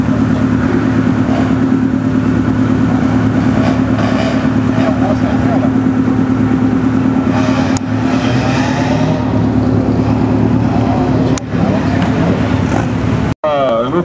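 A 1990s Peugeot 309 GTI 16S rally car at a historic rally in the Dauphiné, its engine holding a steady, fairly loud drone throughout, with voices talking over it and a brief sharp knock near the end.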